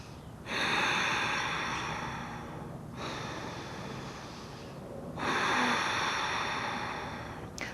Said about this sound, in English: Now we're going to do that same thing with our lips closed so that we're breathing through our nose.